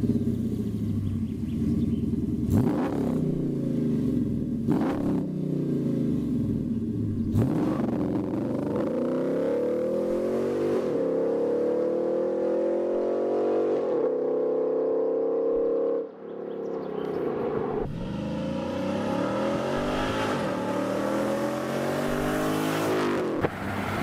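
Jeep Grand Cherokee SRT8 engine revving loudly and continuously, repeated rising and falling sweeps of acceleration with a brief dip near the middle, heard close with no talking.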